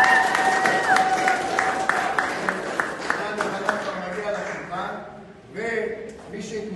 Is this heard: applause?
yes